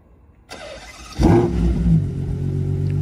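A Ferrari Purosangue engine starts up close by, a brief whir of the starter followed by a sudden loud catch and a steady, deep idle that settles in.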